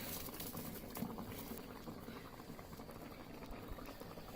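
Rui fish curry bubbling in a pot on a clay stove, a faint low simmer with soft gurgles and pops, quiet and distant-sounding with light background noise.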